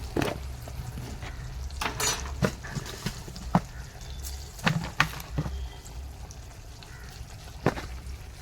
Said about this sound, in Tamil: சீரகம் போட்டு தாளிச்சிட்றோம். பொரிஞ்சிருச்சு.